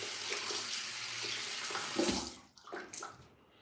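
Tap water runs steadily while hair is washed with shampoo, a continuous broadband splash with louder gushes and sloshing near the end, close by with no talk.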